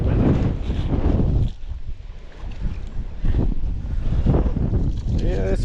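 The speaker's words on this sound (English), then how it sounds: "and it's super windy." Strong, gusty wind roars steadily across the microphone on a lake during a fishing trip, a loud, continuous rumble with surges, and a voice is faintly audible beneath it.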